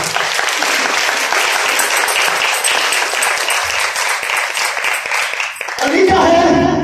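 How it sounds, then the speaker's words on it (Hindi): An audience applauds steadily for several seconds, dense and fairly loud, before the clapping cuts off and a speaker's voice takes over at the end. "ताली बजाएं अपने लिए।"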